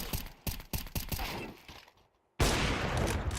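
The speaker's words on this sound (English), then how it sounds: "Nice shot with the deagle" A Desert Eagle pistol fires in the Counter-Strike video game during a pro league match, several sharp, loud shots in quick succession, then a short near-silent gap before a burst of dense noise.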